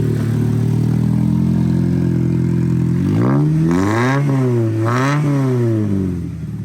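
A 1972 Volvo 164E with an exhaust cutout idles loudly and steadily at a car club meet, then gets two sharp revs that rise and fall before it settles back to idle.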